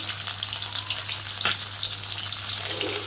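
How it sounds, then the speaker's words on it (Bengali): Tilapia frying in hot oil gives a dense, steady sizzling hiss, close and continuous, with a steady low hum underneath. "দেখো কত সুন্দর ভাজা হয়েছে"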